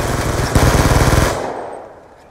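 Full-auto gunfire in Call of Duty Black Ops 2 rattles loud and close as a rapid stream of shots, then cuts off and fades to quiet.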